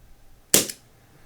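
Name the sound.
Bug-A-Salt Shred-Er CO2 gun firing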